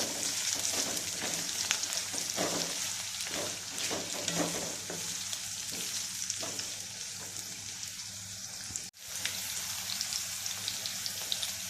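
Chopped onion and green chillies frying in a pan while being stirred, a continuous close sizzle with irregular scrapes and clicks of the spoon, a brief dip near the end, no voices.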